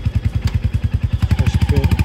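A Royal Enfield motorcycle thumps close by with a fast, regular single-cylinder pulse, its beat slightly uneven as it sets off, loud and alone.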